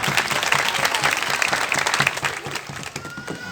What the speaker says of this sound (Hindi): बाइबल मुकद्दस के लिए जोरदार ताली।